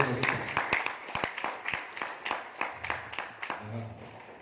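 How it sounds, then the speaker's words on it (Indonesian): Scattered applause from an audience at a motivational seminar honoring successful members, with a handful of distinct claps in an uneven rhythm, fairly close and moderately loud, faint murmuring underneath. "sekali lagi berikan tepukan untuk mereka-mereka yang sudah sukses"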